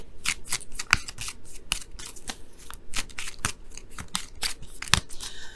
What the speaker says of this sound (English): I'm going to pull a card for that too.